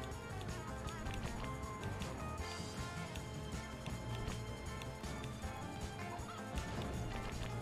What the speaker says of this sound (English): I keep hearing the chickens.